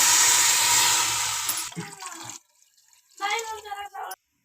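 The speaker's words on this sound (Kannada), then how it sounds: "ನೋಡಿ ನೀರನ್ನ ಹಾಕ್ತಾ ಇದ್ದೀನಿ ನೋಡಿ ಇಲ್ಲಿ ನಾನೀಗ" Water pours steadily into a pan of vegetables for Maggi noodles for about a second and a half, then stops, followed by a few clinks and a short spoken phrase.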